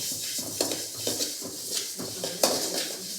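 Pepper and fennel seeds dry-roasting in a metal pan in a village kitchen, Kongu style, stirred with a spoon that scrapes and clinks against the pan in irregular bursts. One sharper knock stands out, with no talk.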